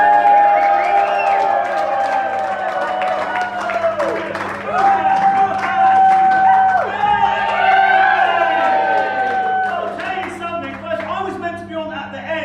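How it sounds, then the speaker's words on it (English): A comedy-club crowd at an Adelaide Fringe late show claps, whoops and cheers for the opening comedian, a sustained burst with shouted voices and tonal yells riding over the clapping. "I want you to clap, hoop, holler, give all y'all love for the first act of the evening, Nik Coppin."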